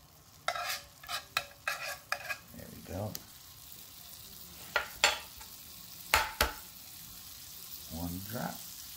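Eggs stir and sizzle in a non-stick frying pan, with a run of quick scraping strokes, a pause, then a few sharper scrapes and a soft sizzle underneath, close and moderately quiet.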